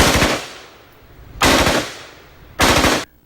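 Three short bursts of automatic fire come from a K3 machine gun, an army weapon firing again after being cleaned. Each burst is loud and close with rapid stacked shots, followed by a fading echo and brief pauses between bursts.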